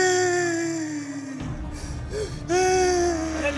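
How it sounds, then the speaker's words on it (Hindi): Someone crying and wailing on stage during a Ramleela performance in Ayodhya, a long sobbing moan that breaks off and then rises again in tremulous cries. "ये किसके रोने की आवाज है?"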